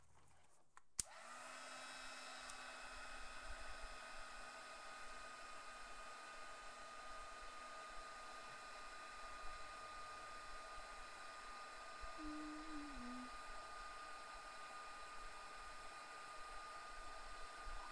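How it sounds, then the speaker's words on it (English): A heat embossing tool switches on with a click and runs steadily, a quiet motorized whir with tonal hum blowing hot air over embossing powder on a card, continuous and close. "And then we're going to emboss this little angel."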